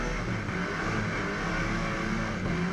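A burnout car at the Summernats Burnout Masters event in Western Australia holds a loud, sustained engine roar close by, rich and rumbling with a steady note and no pauses.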